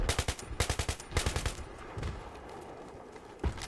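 Battlefield 3 gunfire: two quick bursts of rapid automatic shots up front, then a pause and a single heavier report near the end, loud and close with no talking over it.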